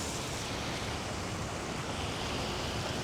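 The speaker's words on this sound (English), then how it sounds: "We have a little dancing water show over here." A dancing water fountain show plays outdoors at night in downtown Houston, a steady, dense rush of splashing water heard up close with no talking.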